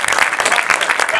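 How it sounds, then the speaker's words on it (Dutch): Audience applauding artists and makers at an art event, a dense, steady wash of many hands clapping throughout, fairly close and loud. "Geef ze even een applaus."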